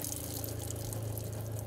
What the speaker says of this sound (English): We can go to our faucet, turn our faucet on.